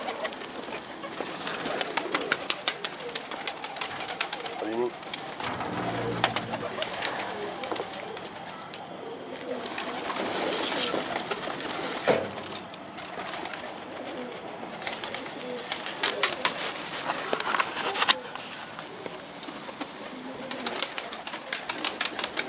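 Pigeons coo repeatedly nearby amid a busy backdrop of bird calls, with occasional wing flaps and rustling.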